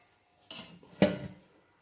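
A pot lid set down on a cooking pot of steaming batter in a home kitchen: a soft clink near the start, then a louder metallic clatter about half a second later, close and alone with no talk.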